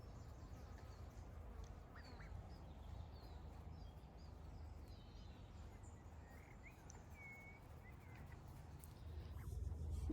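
Ducks on a farm in June make faint, scattered quacks and chatter over a steady low rumble of outdoor background noise, with no talking.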